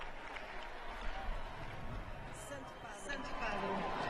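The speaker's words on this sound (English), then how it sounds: "Holy Father acknowledging the applause." A large audience applauds the Pope during his apostolic journey to Portugal, with a diffuse, fairly distant clapping and crowd murmur under a voice talking over it.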